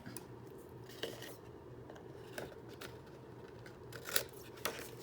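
Scissors snip the corners of scored paper for a trifold folio craft, a few soft, close clicks and crisp cuts spaced over a faint steady background hum.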